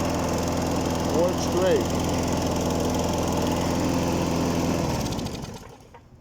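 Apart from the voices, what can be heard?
John Deere 14 SZ lawn mower engine running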